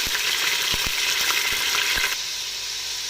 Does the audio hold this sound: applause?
no